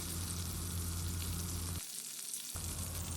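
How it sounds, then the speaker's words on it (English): Green chillies (achari mirch) shallow frying in hot mustard oil over a medium flame give a steady, close crackling sizzle that drops away briefly near the end before resuming. "we will add the Achari Mirch and shallow fry them for 1 to 2 minutes on medium flame"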